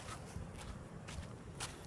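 Footsteps of someone walking during a trip, a steady soft shuffle of steps close to the mic over constant background noise, with no talk.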